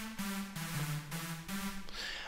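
A layered big room drop lead, built from a backbone synth stacked with other synths, plays a bright, dense, sustained line that shifts between a few pitches with steady bursts of noisy high end, loud and continuous with nothing else.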